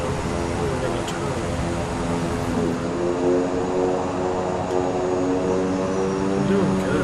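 A plane in Microsoft Flight Simulator 2020 rolling along the runway just after landing, with a steady engine and propeller drone heard close, under no spoken words.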